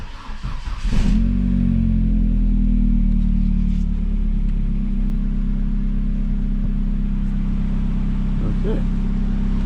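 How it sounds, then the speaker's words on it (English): A vehicle engine starts up and revs on a test drive after a pulley repair, then settles into a loud, steady close drone that holds for several seconds, no talk. "I put the wheel on, go for another test drive."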